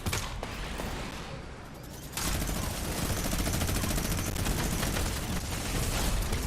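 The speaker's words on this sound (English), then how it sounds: "I hear gunfire." Bursts of rapid gunfire rattle continuously after a short lull, dense and loud, like automatic weapons firing in a video game.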